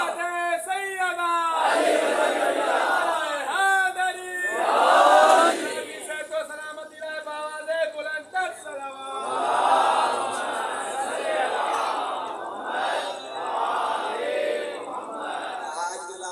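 At an Ashura-season majlis in an imam bargah, a lead voice repeatedly calls religious slogans and a large crowd answers each with loud, massed chanting that swells and fades in waves across the hall.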